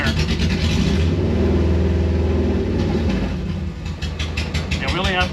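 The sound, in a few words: Subaru-powered 1974 VW Bus engine hunting for idle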